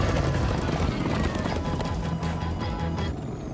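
Horses gallop in a steady, dense clip-clop of hooves under a busy layer of game sound and music in Minecraft: Story Mode, loud and continuous throughout.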